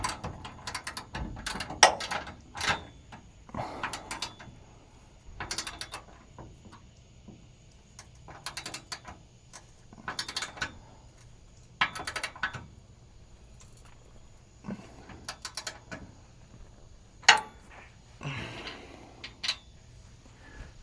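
A hand ratchet cranking bolts on a car, heard as faint, close clicking bursts in irregular short runs separated by quiet pauses.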